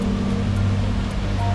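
Water pours steadily at Düden Waterfall in Antalya, Turkey, a loud, continuous rushing wash heard close with a low steady hum underneath.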